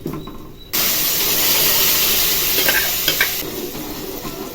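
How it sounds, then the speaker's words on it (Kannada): Ground masala paste and spices hit hot oil at about the 0.7-second mark and sizzle loudly and steadily. The frying continues with faint stirring scrapes, and there is no talk. "ಸ್ವಲ್ಪ ಫ್ರೈ ಮಾಡ್ಕೋಬೇಕು."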